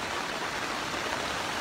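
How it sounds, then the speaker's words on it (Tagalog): Floodwater from Super Typhoon Odette in Mindanao rushes steadily in a continuous hissing flow, moderately loud and unbroken, with no voices over it. "Mo diretso-diretso ang tubig diri."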